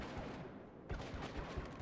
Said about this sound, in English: Really, pulse cannon?